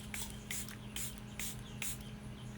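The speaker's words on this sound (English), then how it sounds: "I'm going to spray my Charlotte Tilbury" A setting spray, Charlotte Tilbury Airbrush Flawless, is pumped in five quick, evenly spaced hissing bursts close to the microphone against a low steady hum.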